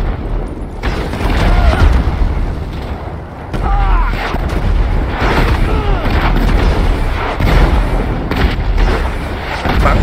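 Heavy, continuous gunfire in GTA 5 is aimed at a car, with loud rapid bursts and booming impacts throughout while players talk excitedly over the shooting.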